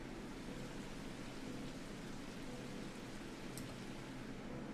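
Rain falls outside in the video game Necrobarista, a faint, steady, even hiss of noise running unbroken from start to finish with no voices.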